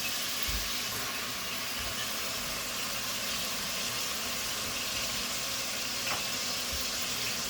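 Carrots frying in a hot pan for egg fried rice, a steady soft sizzle alone with a few faint low clatters, fairly quiet.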